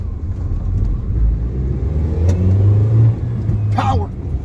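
A 2002 Toyota Echo pulls away in first gear with a steady, loud low engine drone from inside the car, while someone talks and laughs over it.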